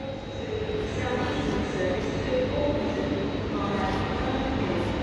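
A Southeastern electric train at London Victoria station gives a continuous loud rumble of motors and rolling wheels with faint higher tones, steady throughout, with voices in the background.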